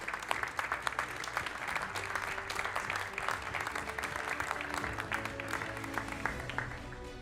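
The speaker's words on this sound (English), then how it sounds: "Give them an applause, please." Steady, lively clapping from a conference audience honouring the third-place team at an innovation event on building renovation business models, sustained for several seconds with faint voices underneath.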